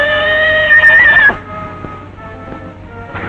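A horse whinnies loudly and close for about a second, then the sound drops to quieter background clatter and faint movement.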